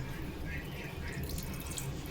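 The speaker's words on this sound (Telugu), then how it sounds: "ఇప్పుడు దీంట్లోకి నేను అర గ్లాసు నీళ్లు పోసుకుంటున్నానండి" Half a glass of water poured onto jaggery in a cooking pot, giving a soft, steady splashing trickle throughout, quiet and close.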